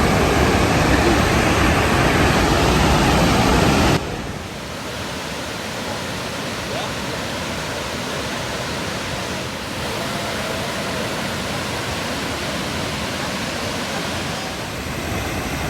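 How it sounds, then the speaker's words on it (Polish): Steady, roaring rush of a waterfall, loud and continuous, dropping slightly in level after a few seconds but never pausing. "Oto wodospad."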